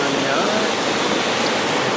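Steady rush of falling water from Chilyeon Falls in the Chilyeon valley of Deogyusan, a dense, even roar at close range with no other sounds over it.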